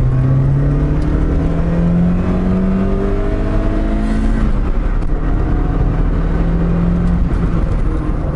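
A 1992 Lancia Delta HF Integrale Evo 1 rally car's engine pulls hard from inside the cabin, its loud droning note climbing steadily through the revs toward about 6000 rpm with gear changes, and no talking.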